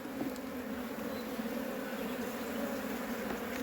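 Honeybees humming around a hive being cleaned while robbing stirs up the colony, a dense, steady, droning buzz close by with no break and no talk.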